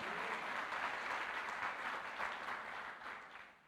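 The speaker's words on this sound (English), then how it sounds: "Come on, let's give the Lord a hand clap for that." Church congregation applauding during a service, a dense, even roar of clapping heard from a distance that holds steady, then tapers slightly at the end.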